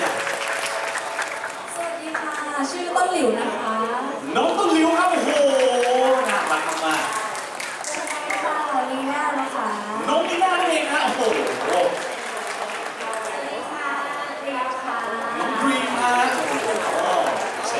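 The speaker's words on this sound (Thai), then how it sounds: "เสียงปรบมือฮะ" An audience claps at a Thai music label launch event as band members are introduced one by one, sustained applause rising and falling beneath a host's amplified talking.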